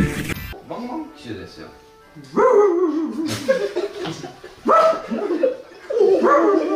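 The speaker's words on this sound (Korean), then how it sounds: "Sorry, that's my dog." A dog barks and yips in quick, close bursts with a whimpering edge, broken by short pauses, while people talk and laugh over it.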